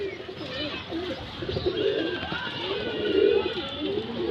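A Tara breeding pair of pigeons coo in repeated low, throaty calls, close and fairly loud, with faint background sounds.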